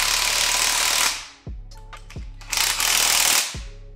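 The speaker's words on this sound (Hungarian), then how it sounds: "Úgyhogy most csak fölhúzatom szépen magát a kereket" An impact wrench or air gun tightens the lug nuts on a wheel of a Nissan S14 in a garage, loud rattling bursts separated by short pauses, no talking.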